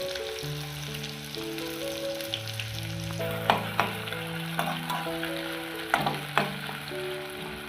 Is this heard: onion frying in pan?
yes